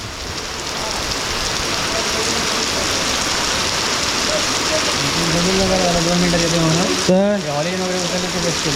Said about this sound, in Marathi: आता माहिती म्हणून असा पाऊस येतोय